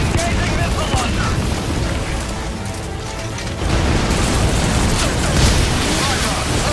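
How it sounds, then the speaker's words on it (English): Missile launcher explosions in Metal Gear Solid V: The Phantom Pain, a dense roar of booming blasts and bursts that swells louder after a brief lull, continuous and close. "Target acquired. Get hot. Engaging missile launcher."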